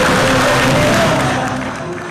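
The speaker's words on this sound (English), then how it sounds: "Let's give a round of applause." An audience at a club ceremony applauds a newly appointed president. Dense clapping and crowd noise are heard close and loud, fading slightly toward the end, with a faint voice underneath.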